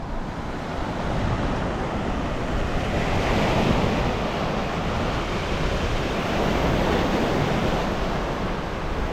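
Sea waves breaking on the Baltic coast in Germany, a continuous rushing surf with steady wind buffeting the microphone, loud and broad with no pauses and no voices.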